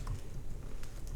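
Computer keyboard typing, a steady run of quick light key clicks close by with no talk.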